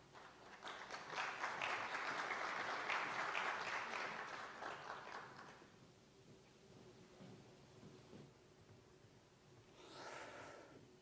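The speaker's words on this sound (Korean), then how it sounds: "우리 박수로 환영해 주시면 대단히 감사하겠습니다" Applause from a seminary alumni worship gathering welcomes a university president to the stage, starting full and sustained for several seconds, then thinning to scattered claps and quieter crowd noise.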